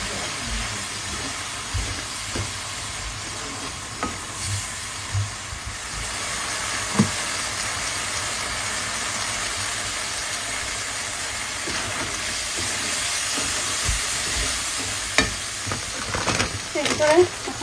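Chopped potato and prawns sizzle steadily in a hot pan, with occasional scrapes and clinks of stirring, close and continuous, a loud bubbling hiss throughout and a few louder knocks near the end.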